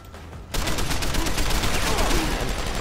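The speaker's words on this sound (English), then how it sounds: "Guy, can you stop shooting?" Heavy automatic gunfire in Deus Ex: Human Revolution bursts in after a short lull and keeps up as a dense, loud, continuous volley.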